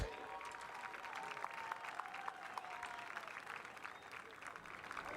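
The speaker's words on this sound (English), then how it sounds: "let's have a round of applause for the coaching staff from Brownsville Veterans coaching the East All-Stars today" Audience applause during team introductions at the 2018 RGV All-Star Football Game, a steady crowd clapping that holds for the whole stretch at a moderate, somewhat distant level, with a voice faintly audible underneath.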